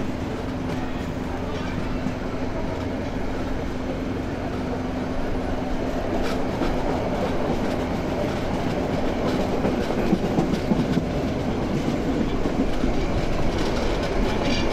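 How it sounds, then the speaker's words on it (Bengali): The Chattala Express rumbles along the rails as it slows toward Comilla railway station after rain. A steady, dense roar of wheels and carriage noise fills the whole stretch, with faint clicks rising now and then. "ট্রেন স্লো হয়ে যাচ্ছে।"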